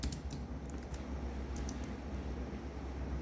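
Rapid keystrokes patter on a computer keyboard in an irregular, close, fairly quiet burst of clicks with no talk.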